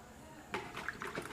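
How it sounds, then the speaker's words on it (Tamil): Water splashes and trickles over peeled onions being washed for onion pakoda, faint and close, starting partway through a brief quiet moment. "இப்போது வெங்காயத்தை 2 நல்லா உரித்து நல்லா தண்ணி விட்டு கழுவிக்கலாம்."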